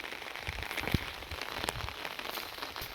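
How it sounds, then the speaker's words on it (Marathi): Rain falls over a soybean field, a soft, steady patter and hiss at low level with a few sharper drop ticks and no voices. "अजून सध्या पण पाऊस चालू आहे मंडळी"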